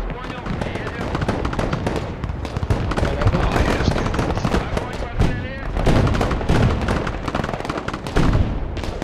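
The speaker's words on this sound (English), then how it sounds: "They keep firing at me." Dense, continuous gunfire and explosions from the battlefield video game Broken Arrow, loud and busy throughout with players talking over the combat.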